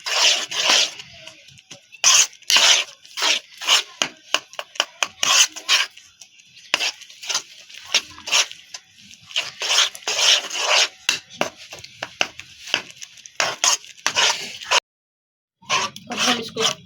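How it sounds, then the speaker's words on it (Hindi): A sweet guava mixture being roasted in a pan, with a spoon or spatula rasping and scraping rhythmically across the pan in rapid strokes, close and loud, pausing briefly near the end. "अब हम इसको भूनते जाएंगे, इसकी बुनाई करेंगे अच्छी तरह।"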